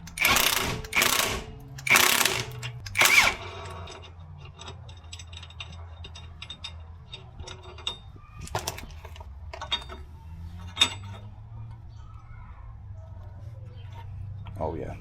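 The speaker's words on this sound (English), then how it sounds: "This stud installer makes the job a lot easier." Clicking and ratcheting as a stud installer pulls wheel studs into the hub of a 2005 Subaru Impreza WRX STI, with a few loud mechanical clunks at the start, then a steady low hum and scattered ticks.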